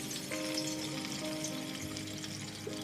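Constant close-up frying hiss from duck breast in a pan on low heat, an even bubbling sizzle with light crackles and no break.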